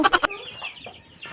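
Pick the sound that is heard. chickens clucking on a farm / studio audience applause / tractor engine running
chickens clucking on a farm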